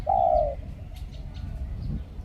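A single soft spotted dove coo close by, a short hollow note followed by quieter murmurs and faint background chirps.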